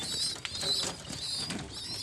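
Baby birds being hand-fed make faint, high chirps and squeaky cries that come in short, overlapping bursts against a quiet background.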